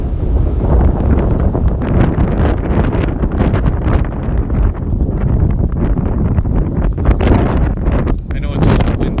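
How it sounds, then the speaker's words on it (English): Strong wind blasts across the microphone in a large park, a loud, continuous rumbling roar with gusting surges throughout, while a person talks underneath. "I know it's a little windy."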